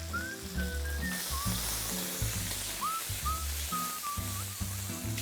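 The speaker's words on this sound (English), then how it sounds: "I have heated 2 tablespoons of oil. I'm going to add 3 cloves of garlic that I've chopped." Chopped garlic, curry leaves and green chilies frying in two tablespoons of hot oil, a continuous soft sizzle and crackle under background music with a whistling melody, heard up close at a low, even level.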